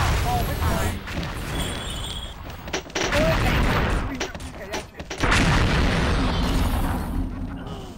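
Booming explosions and bursts of gunfire from the online shooter XSHOT, Ghost Team mode, crash repeatedly over continuous excited talking, loud and dense throughout.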